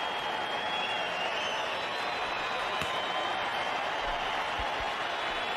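Cricket crowd in a Johannesburg stadium applauding a batsman's half century in a one-day international, a steady broad wash of clapping and cheering that holds evenly throughout at moderate distance.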